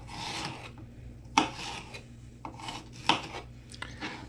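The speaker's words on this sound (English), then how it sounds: "I'm just going to slice it." A knife slices through a green pepper on a kitchen board, with two sharp crisp cuts standing out over softer rasping strokes, close and fairly quiet, with no talk.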